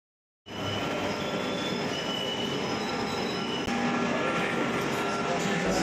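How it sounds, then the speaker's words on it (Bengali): A Kolkata metro train heading toward Dakshineswar rolls along with loud, continuous wheel noise and a high squeal, starting abruptly after a brief silence and growing slightly louder partway through. "আমরা প্রথম মেট্রো করেই দক্ষিণেশ্বর যাচ্ছি"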